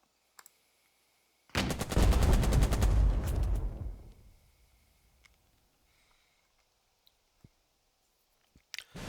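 A single aimed rifle shot in the Burden of Command video game, a loud sharp blast with a rattling burst that decays over about two seconds, followed by quiet and a few faint clicks.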